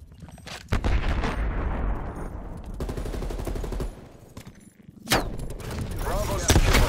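An artillery strike in Call of Duty: Black Ops Cold War on the Moscow map in Domination mode, loud dense barrages of booming impacts and gunfire rolling on continuously, with a sharp blast near the end and announcer voice lines.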